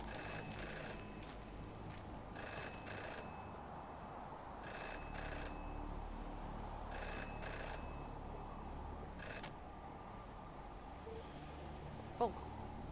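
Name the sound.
telephone ringing in video game Jenny LeClue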